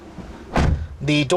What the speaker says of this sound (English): And when you shut the door